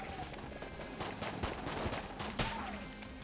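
Bursts of exploding enemy shots in the twin-stick shooter Enter the Gungeon, a rapid cluster of gunfire and small blasts, fairly faint and continuous with sharper pops near the middle.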